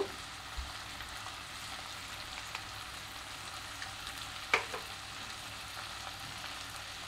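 Shrimp masala frying in a pan with chili powder and salt, a steady close sizzle with occasional stirring scrapes and one sharper clink.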